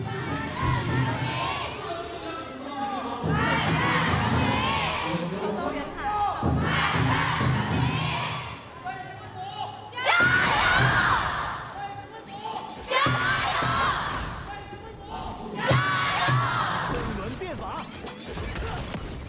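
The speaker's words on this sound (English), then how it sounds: "The screams were pretty loud." A large crowd at the 2025 KPL Grand Finals esports event screams and cheers loudly in repeated waves, each roar rising and falling with brief dips between them.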